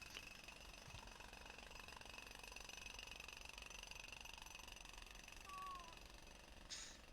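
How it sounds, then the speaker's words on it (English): Jackhammer sound effect played during a tabletop role-playing session, a steady faint rattling hammering that runs the whole time at low level, with a brief higher burst near the end. "I have a jackhammer sound"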